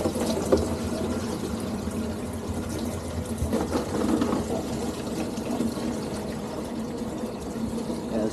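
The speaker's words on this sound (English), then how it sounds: "I stop here every time I'm traveling up 51 to fill up my water" Water bottles filling at a roadside spring along Route 51 near Black River Harbor in Michigan's Ottawa National Forest, a steady close gushing and splashing flow running throughout without pause.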